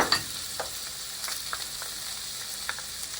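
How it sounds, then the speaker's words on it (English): Onions, sweet pepper and garlic sautéing in a pan for a soy chunk stew, a soft even sizzle with a few light taps and stirring clicks throughout. "allow them to saute for 1 minute"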